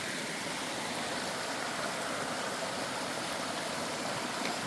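Steady broadband rush of running water along a rocky mountain trail on the Appalachian Trail near Mount Moosilauke, a continuous even hiss filling the whole clip with no voices.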